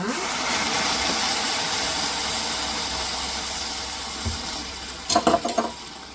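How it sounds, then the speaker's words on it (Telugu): Kettle-boiled hot water poured into a sizzling mutton bone-marrow curry in a hot pan: a steady, loud hissing sizzle throughout, with a few light metallic clinks near the end. "కెటిల్లో కాచుకున్న హాట్ వాటర్ అయితే యాడ్ చేస్తున్నాను ఇక్కడ"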